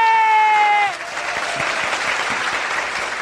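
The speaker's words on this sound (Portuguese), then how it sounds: "Ricardo, aquele botão da salva de palmas pro DENARC." A studio applause sound effect fired from a button on a live local TV show in Manaus: after a brief tone it swells into a steady, loud wash of clapping and crowd noise that carries to the end.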